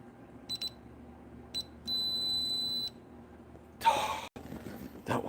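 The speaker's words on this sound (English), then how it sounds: "Stop beeping." Quiet room with an aquarium where an electronic device gives short high beeps, first in a few quick bursts and then one longer tone lasting about a second, followed by a louder clatter.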